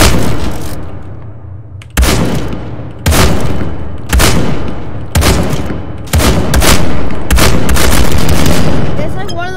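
A video game shotgun fires about seven heavy, booming blasts, roughly one per second. Each shot is loud and close and leaves a short decaying tail before the next, with no talking between them.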